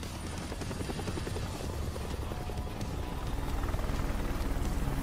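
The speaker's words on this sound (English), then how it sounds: "How can you pull up in a helicopter like that" A helicopter arrives in a Tekken 8 story cutscene, its rotor thumping in a steady rapid pulse that grows louder and closer toward the end, with no talking.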